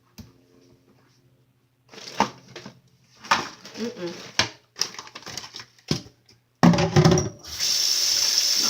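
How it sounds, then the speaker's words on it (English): Tap water runs into a mixing bowl after brownie mix is scraped out, a steady splashing stream starting near the end and continuing to the close, preceded by clattering kitchen handling noises. "Always start putting water in the bowl right away so you know to wash it."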